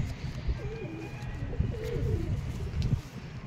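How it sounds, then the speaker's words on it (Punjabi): Golden pigeons coo in low, repeated throaty phrases, close by and fairly steady, with a faint chirp or two and no talk. "ਗੋਲਡਨ ਕਬੂਤਰ ਜੇ ਪੁਰਾਣੇ ਰੰਗ ਲੱਗੇ ਜੀ"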